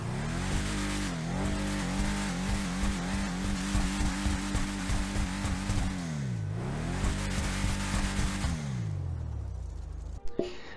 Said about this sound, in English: We're going to do a sound test on the car